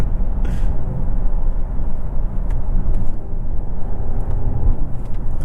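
A 2024 Mercedes GLE53 AMG with an inline-six engine drones steadily while driving, a loud, continuous low rumble mixed with road noise, heard from inside with no speech.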